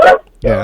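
A dog gives two short, loud barks close by, separated by a brief pause, with a voice speaking briefly alongside.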